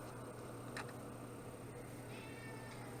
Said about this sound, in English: there's the other cat coming over to see what's going on too